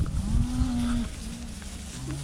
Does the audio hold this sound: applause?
no